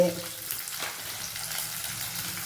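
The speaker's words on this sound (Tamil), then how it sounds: "இந்த வெங்காயத்தையும் போட்டுங்க எல்லாம் நல்லா வதங்கணும்" Onions sautéing in a pan for an eggplant kadayal, giving a dense, hissing fry that starts with a brief clatter and then holds steady and close for a couple of seconds, with no voices.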